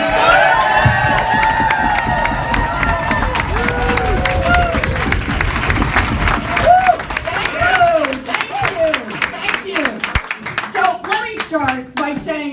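A ballroom crowd at an Elizabeth Warren event yells, cheers and claps, loud and dense at first, then thinning into scattered whoops and claps near the end.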